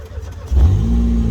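A Corsa pickup engine cranks and catches after a brief quiet moment, then settles into a loud, steady idle with a raised rev, while people talk nearby.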